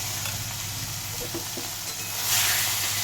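Tomato and garlic paste hitting a hot pan for red chicken, a close, steady sizzle that swells louder near the end, with no talking.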